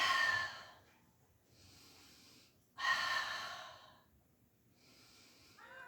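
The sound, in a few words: slow breathing during a pilates exercise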